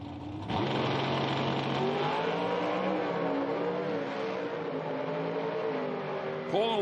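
A Mountain Motor Pro Stock drag racing car launches hard and roars away down the strip, a loud sustained engine howl rising in pitch through gear changes, with a sharp burst at the very end.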